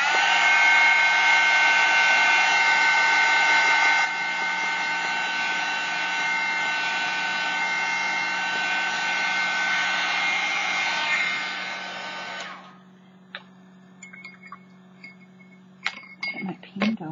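Hair dryer blowing on paint over junk mail, a loud steady whooshing whir that drops slightly in level partway, then cuts off, followed by faint clinks and handling sounds.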